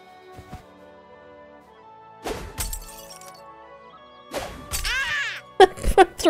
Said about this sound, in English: Throwing broken glass at little kindergartners.